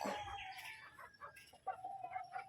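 Chickens clucking and a rooster's crow nearby, with a few short calls followed by a longer drawn-out crow, outdoors with light background noise.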